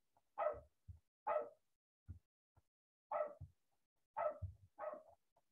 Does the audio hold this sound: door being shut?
no